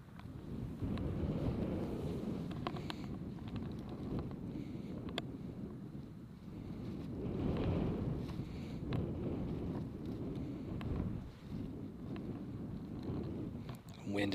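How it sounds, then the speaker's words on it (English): Strong wind batters the microphone outdoors near the erupting Kilauea volcano in Hawaii, a steady close low roar that swells and eases over the whole stretch with no break. "Wind is just battering things"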